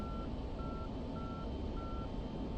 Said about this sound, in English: now you know what an F-16's STT sounds like on your RWR